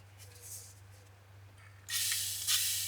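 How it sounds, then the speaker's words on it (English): A squirt of oil hits a very tiny frying pan on medium heat and bursts into a loud, bright sizzle that holds to the end, after a quieter stretch of faint hissing. "let's do a squirt of oil"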